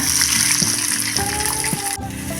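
Finely chopped large onion fries in hot oil with mustard, fennel and fenugreek seeds for a snake gourd side dish, making a loud, steady crackling sizzle with bright clinks and scrapes from stirring; no talking.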